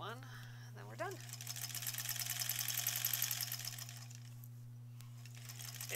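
Sewing machine stitching a fabric zipper pouch, a fast steady mechanical whir running for a few seconds before easing off, with a low constant hum under it and someone speaking briefly at the start.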